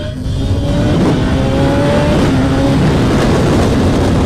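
BMW S1000RR 2025 sport motorcycle engine revving hard at 8,000 rpm, a loud, sustained high-pitched roar with rising tonal whine, close and continuous throughout.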